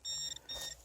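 Electronic beeping from a metal detector in two bursts of steady high-pitched tones, close and fairly faint, with a short gap between them.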